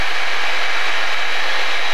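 Blue Angels jet engines at full throttle, a loud, steady broadband roar filling the cockpit with no variation across the short stretch.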